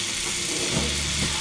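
Sausage browning in a pan for late-night breakfast enchiladas, giving a steady, close broadband sizzle with no pauses and no talk.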